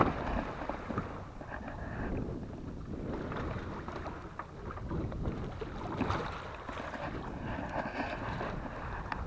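Sailboat moving slowly at about three knots under full sail in a light breeze of roughly six knots, with a soft continuous wash of water and wind noise that swells and fades gently, with no talking.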